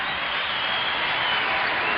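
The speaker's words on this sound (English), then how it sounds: "The crowd is serenading the Lakers as they leave the floor" A basketball arena crowd at a 1992 Lakers home game against the Bucks cheers and applauds as the Lakers leave the floor, a dense, steady roar of many voices filling the space.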